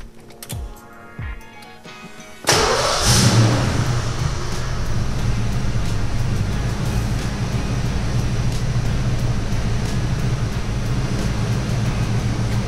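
A car engine cranks and catches after a quiet start with a Motorcraft FL-1A or generic oil filter fitted, then settles into a loud, steady idle that holds for about ten seconds without talk.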